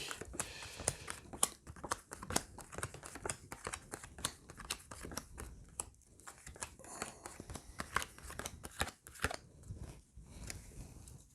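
Tarot cards being shuffled for a reading, a rapid run of crisp papery flicks and slaps, close and fairly quiet, continuing steadily without speech.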